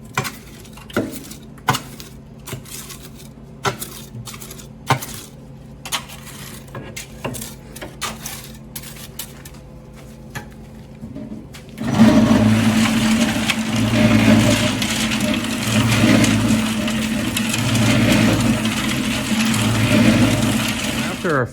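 Sand and stone being mixed by hand for conventional concrete: sparse scraping and gritty taps at first, then a dense, continuous rough scraping and crunching of aggregate being turned over, close and fairly loud.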